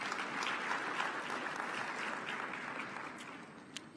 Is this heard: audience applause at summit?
yes